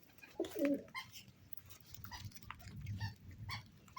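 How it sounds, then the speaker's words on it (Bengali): Domestic pigeons cooing softly in a loft, low murmuring coos rolling on and off over about four seconds with a brief louder flutter near the start, fairly close and with no voices. "এই যে একটু স্থির হও তো কবুতর"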